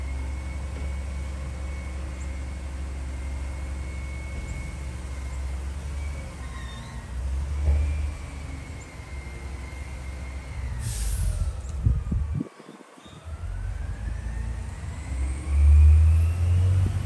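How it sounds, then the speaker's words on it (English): A big garbage truck rumbles past, its low engine drone steady and swelling, with a brief hiss and a sharp dip near the end as the air brakes release, then a renewed surge of engine noise. "big old garbage truck."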